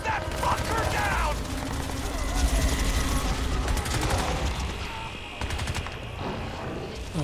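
Sustained gunfire in the video game Crysis: dense, continuous rattling shots with heavy low rumble keep going for the whole stretch, with voices mixed in under the battle noise.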